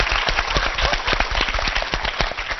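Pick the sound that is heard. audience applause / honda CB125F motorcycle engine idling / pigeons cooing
audience applause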